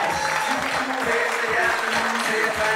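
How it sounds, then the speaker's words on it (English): A wedding reception crowd applauds a bridesmaid and usher entering, with dense, loud clapping and some crowd noise and music-like tones underneath, continuous throughout. "Please put your hands together for bridesmaid Julie Monfreda, escorted by usher Thomas Garrity."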